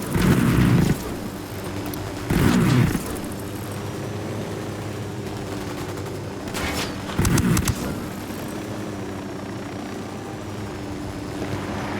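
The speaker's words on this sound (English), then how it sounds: "I'm opening fire on these shitheads." Gunfire in the Ghost Recon Wildlands video game: loud bursts of shots at the start, around two and a half seconds and near seven seconds, set over a steady low rumble like a hovering helicopter, with no talk.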